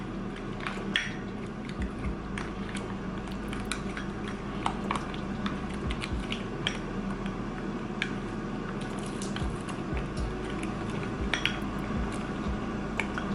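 Sauce being mixed in a bowl for a keto fish dinner, with steady scraping and clinking of a utensil against the dish, soft wet squishes and drips running continuously at moderate level.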